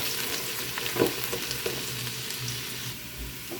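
Garlic fries in a pan with a steady, close crackling sizzle and a few brief stirring clatters.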